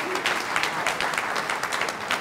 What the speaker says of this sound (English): A round of applause for these two brilliant gentlemen.